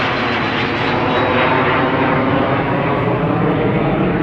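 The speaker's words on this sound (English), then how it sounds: "This was somebody's private airplane. Like Learjet." A private jet, something like a Learjet, passes overhead on a damp winter day in Japan, its engine roar loud, broad and steady for several seconds, with no voices.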